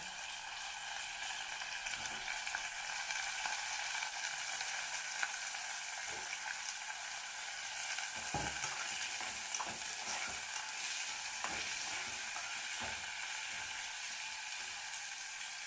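Potatoes and brinjal cook in a pan with a steady, close sizzling hiss, broken by a few soft clinks and scrapes of stirring, with no talking.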